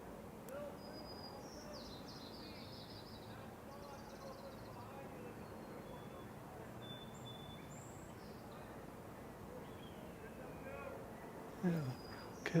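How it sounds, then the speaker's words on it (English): A second starling calling in a marsh with brief whistles and buzzy chirps at a middle distance, set against steady wind-like ambience and faint insect-like background sound. "And another starling."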